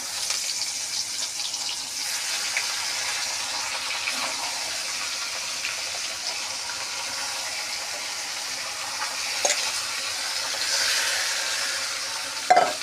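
Hilsa fish pieces fry in hot oil seasoned with white and black cumin, sizzling continuously up close with a dense, even hiss. A few stirring clinks and small bumps break through near the end.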